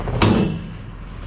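A drawer in a scrapped electric appliance is pulled open, giving a single short scraping clunk up close, followed by quieter rattling.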